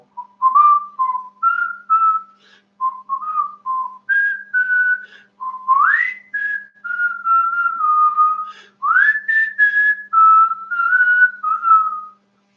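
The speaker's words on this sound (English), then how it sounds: "if you put your mouth into a little tube, you can start whistling" A person whistles a bright, wandering melody of short held notes and upward slides, close and clear, with brief pauses between phrases and no talking.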